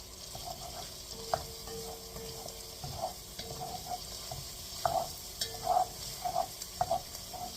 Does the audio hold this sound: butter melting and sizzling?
yes